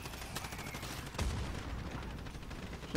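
Gunfire aimed at a helicopter in a Modern Warfare Special Ops mission, with a few sharp shots cracking over a faint background of distant battle noise.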